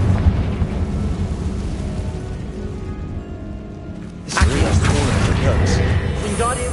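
A Confringo spell blast bursts in the Hogwarts Legacy video game, a sudden loud explosive whoosh partway through that rises out of steady game ambience and lingers in a rumbling tail.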